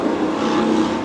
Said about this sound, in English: if you hear traffic outside, I do live kind of near a busy road